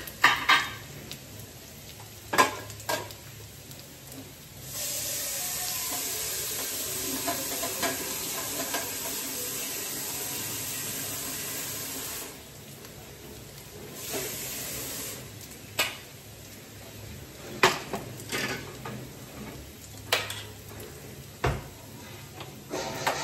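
Water poured into a hot pan bursts into a loud hissing sizzle that holds steady for several seconds, then dies back into softer frying sounds with clinks of a spoon and utensils against the pan.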